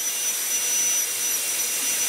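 An SCM power carving machine runs steadily, shaping a wooden gun stock. It makes a loud, close, continuous high-pitched whirring roar with no pauses and no talking.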